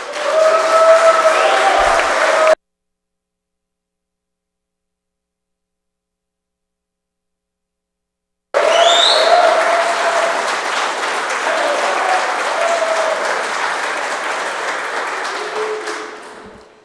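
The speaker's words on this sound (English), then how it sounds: "if you want to give a round of applause for the bill, I can hear you right now" Audience at a public hearing applauding, a sustained burst of clapping that cuts out abruptly into silence for several seconds, then resumes and gradually tapers off at the end.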